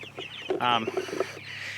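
Chicks and chickens inside a chicken tractor on a warm day, giving short clucks and peeping calls close by over a low steady background hum.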